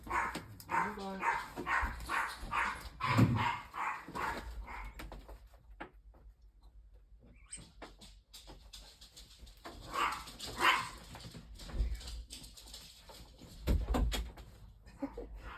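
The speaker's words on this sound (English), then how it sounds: "dogs went crazy" Dogs barking excitedly as someone arrives at a house, sharp repeated barks and yips in bursts, close and loud, with a quieter gap midway and a door sound.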